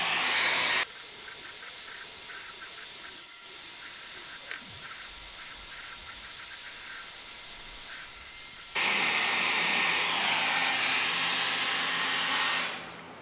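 Steady loud hiss of a heat gun warming a sticker on a Jeep Gladiator's body, blowing continuously for the whole stretch and growing louder near the end, with no talking.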